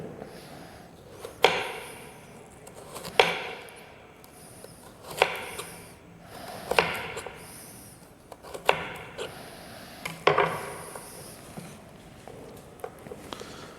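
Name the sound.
knife cutting potato pieces into baton shapes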